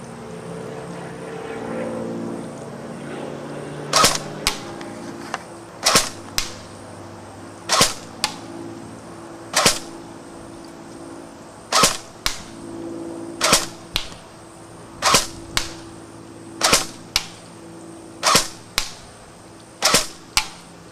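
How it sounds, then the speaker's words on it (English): A TSD SD 45 (UMP) submachine gun fired on full auto in short bursts at long range outdoors, about a dozen sharp, loud bursts spaced a second or two apart over a steady low engine-like drone. "we will show you what the gun can do at ranges greater than that using the full auto feature, firing short 1 to 2 second bursts"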